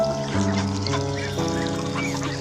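Domestic ducks on a Bengali homestead call in steady, close honking quacks, several birds overlapping continuously without pause and with no talk over them.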